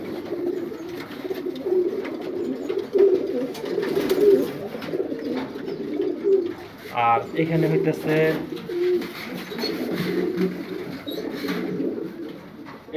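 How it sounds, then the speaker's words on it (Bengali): Pigeons coo in a loft of flying and racing birds, a low steady murmur running through the clip, partly under someone talking close by. "এটা হচ্ছে আমার মাদি কবুতর।"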